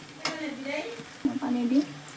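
Food sizzling gently in a pan while being stirred, a soft steady fry with a couple of sharp utensil knocks against the pan and faint background murmur.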